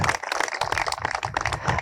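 A church congregation claps at a water baptism ceremony, a dense, sustained burst of many hands with a rhythmic, lively texture throughout.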